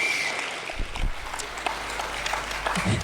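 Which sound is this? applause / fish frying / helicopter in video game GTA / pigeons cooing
applause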